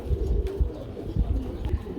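Velvet shield pigeons coo in low, soft, throaty pulses that repeat steadily, close by, with a faint rustling backdrop, at a large pigeon farm.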